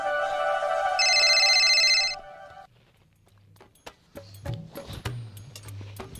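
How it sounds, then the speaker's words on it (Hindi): A phone ringtone rings loudly for about two seconds, a bright repeating electronic melody, then cuts off, leaving quiet rustles and a few sharp clicks and knocks. "फोन आ रही"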